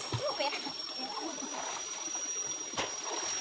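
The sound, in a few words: splashing water while bathing in a stream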